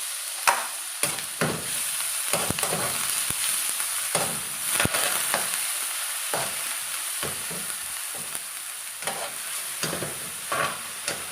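Ground beef fries in a pan for pancit bato guisado, a continuous close sizzle broken by repeated spatula scrapes and stirs, with no talking.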